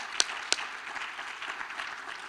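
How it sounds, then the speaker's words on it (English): A crowd at a law students' awards dinner and gala applauds a performer. Two sharp claps ring out early, then a faint, steady patter of clapping follows. "One more round of applause. You deserve it."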